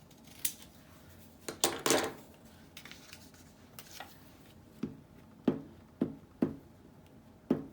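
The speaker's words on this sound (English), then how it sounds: "Okay, we're going to cut this in half" Scissors cut through paper being halved for a collaged journal, giving a series of short, crisp snips in uneven bursts, close and fairly quiet, with no talking.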